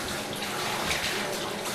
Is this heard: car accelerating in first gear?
no